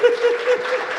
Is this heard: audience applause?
yes